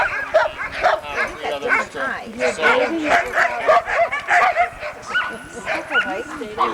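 Sled dog in Alaska barking, yipping and whimpering repeatedly in short excited bursts close by, mixed with people talking over it.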